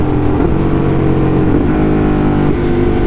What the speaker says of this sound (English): Clutchless shifting.